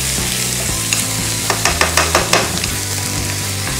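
Beef pieces sizzling and being stirred in a hot pan for a broccoli beef stir-fry, a steady crackling sizzle with a few scraping stirs, close, under background music.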